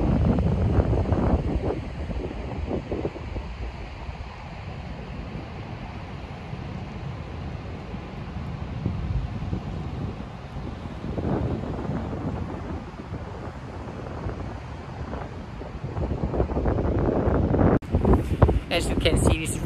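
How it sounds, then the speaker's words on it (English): Strong gusting wind buffets the microphone at Jumunjin beach in Gangneung, a constant roar with surf-like rumble beneath and a brief rattle near the end. "As you can see, it's really windy here"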